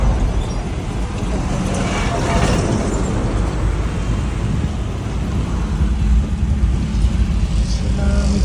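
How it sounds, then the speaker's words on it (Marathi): Heavy road traffic on the Warje bridge, a loud continuous rumble of engines and tyres close by, steady throughout with occasional surges. "वारजी ब्रिजवर पण ट्रॅफिक लागलेली आहे."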